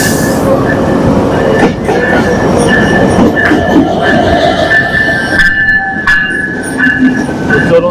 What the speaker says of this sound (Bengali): আমাদের ট্রেনটি এই মাত্র প্ল্যাটফর্মে ঢুকছে।